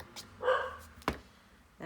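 Pet dogs at a home bark a few times, fairly faint and spaced apart, with a sharp knock or thud between the barks.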